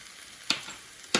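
Peas frying in a pan with spices, a faint steady sizzle with two brief sharp crackles standing out, heard close and alone.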